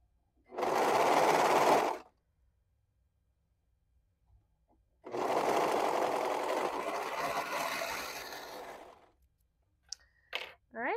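A sewing machine runs a neckband seam in two close, steady whirring bursts, a short one and then a longer one, followed by a few sharp clicks.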